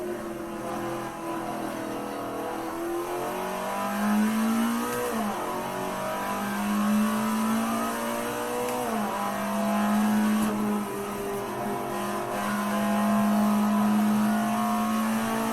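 An Alfa Romeo 33 Stradale engine in Assetto Corsa on the Nordschleife, revving loudly and steadily with rising gear sweeps, shifts and pitch drops, sustained and close with no talk.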